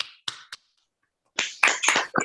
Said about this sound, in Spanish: abran los micrófonos para darle un gran aplauso